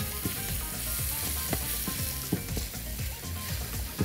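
Onion sizzles and crackles as it fries in oil in a pan for shrimp and tomato stew, a steady close hiss with small pops and scraping, no voices.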